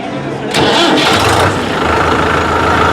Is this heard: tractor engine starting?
yes